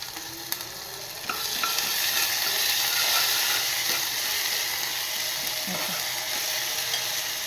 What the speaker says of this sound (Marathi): आलं मिरचीचा ठेचा टाकून घेतला आहे याच्यामध्ये